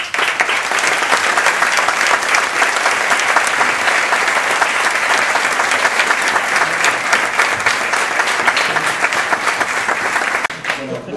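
A public event audience in Madrid breaks into sustained applause. The dense, even clapping fills the room for about ten seconds before easing slightly at the end.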